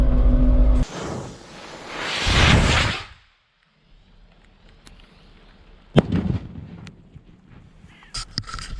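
Fireworks set off to scare crows from a wheat field give a loud whooshing burst, then silence, then several sharp pops and cracks echoing outdoors.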